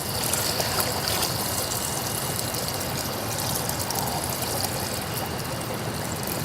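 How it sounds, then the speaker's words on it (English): Water is poured into a bowl set inside a charcoal grill, a steady splashing trickle at close range that continues throughout without any speech. "I'm going to go ahead and add some water."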